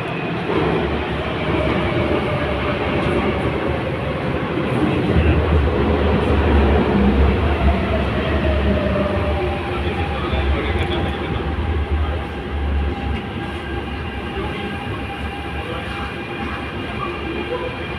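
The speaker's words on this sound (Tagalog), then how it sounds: "Train guys is coming." A train pulls in with a loud, steady rumble of wheels on rails, rattling wagons and faint squeals close by. The sound continues unbroken throughout.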